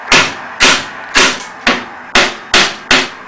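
A hammer tapping a part into place against a dual permanent magnet wind turbine rotor, seven sharp, evenly spaced close-up strikes about half a second apart, each with a brief ringing decay.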